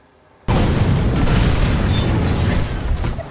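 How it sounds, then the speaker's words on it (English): A film explosion hits the Batmobile in a Harry Potter-era action scene: a sudden loud boom bursts out of near silence and rolls on as a dense, heavy rumble that slowly eases. "the Batmobile takes the brunt of the explosion rather than the armoured car"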